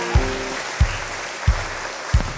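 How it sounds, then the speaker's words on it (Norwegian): A church audience at a live concert in Veavågen Kirke gives applause, continuous clapping with four regular low thumps of music beneath it. "Min kjære svoger, må dere gi en god applaus til."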